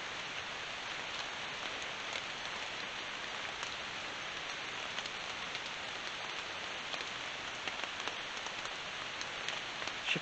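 Steady rain patters evenly on surfaces outdoors near a cemetery, a constant soft hiss with no break and no talk.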